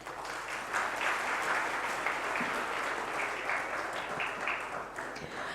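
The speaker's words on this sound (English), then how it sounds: "a huge round of applause on the stage" A room full of delegates at a hospitality industry convention applauds, the clapping dense and sustained, heard at a moderate distance and fairly quiet, with a few louder individual claps standing out near the end.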